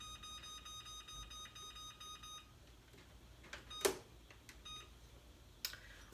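A kitchen timer being set gives off a quick run of repeated electronic beeps, followed by a few sparse clicks and taps, faint and close in a quiet home kitchen.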